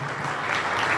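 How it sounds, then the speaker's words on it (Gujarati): Audience clapping at a Valsad Rana Samaj appreciation event, a brief steady patter of many hands, moderately distant and fairly soft, with no break. "તાળીઓ પાડવામાં કચકચાશ નહીં રાખજો."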